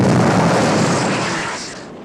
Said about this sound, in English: Holy crap, they actually blew up the plane.